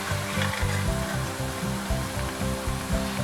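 Cauliflower florets for Gobi Manchurian frying in hot oil give a steady, close sizzle with a dense bubbling crackle. It runs unbroken and alone, with no voices.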